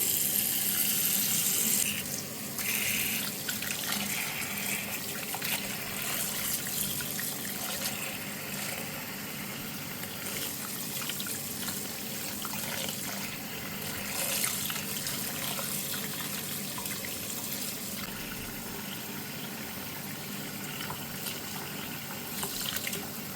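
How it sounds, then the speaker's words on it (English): Plain tap water runs steadily from a faucet into a sink or basin to bathe a silicone baby doll, a continuous soft splashing stream with no talk, holding an even level throughout. "To bathe Cookie, I am literally just using plain water."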